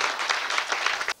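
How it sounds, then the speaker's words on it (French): Dense, steady applause from a crowd at an independence-day celebration in Gabon, sustained and fairly loud before cutting off abruptly at the end. "je vous prie d'applaudir pour le CTRI."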